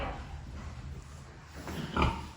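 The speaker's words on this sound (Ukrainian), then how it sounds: "Це в нас особлива порося." A rescued piglet on an eco family farm grunting softly against low background noise, with one louder oink near the end.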